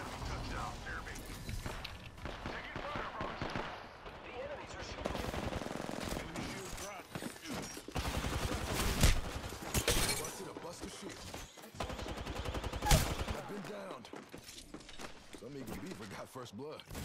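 Dense video game gunfire, with machine-gun bursts and single shots rattling almost nonstop and loud, mixed with shattering and mechanical clatter, while a voice talks over the shooting.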